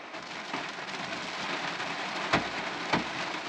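Steady rain drums on a parked car in Scotland, a dense even hiss heard from inside, with a couple of heavier drops or knocks standing out.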